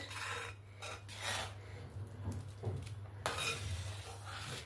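Rice pudding made with Gobindobhog rice gets stirred in a pot, soft scraping and rubbing of a spoon against the pot bottom over low steady background noise, no talk.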